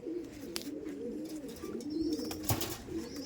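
Madrasi pigeons cooing nearby in low, throaty, rolling calls that overlap continuously, with a few faint chirps and light rustles.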